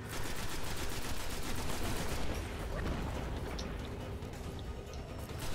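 Sustained gunfire from a weapon in the shooter game Destiny, a steady, loud rattle of rapid shots that continues with little pause and eases slightly toward the end.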